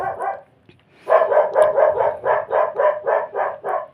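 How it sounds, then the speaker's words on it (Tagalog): A dog barks at someone coming in through a gate: a short double bark, a pause, then a steady run of about eleven loud, close barks in an even rhythm. "yan, ingay ng aso."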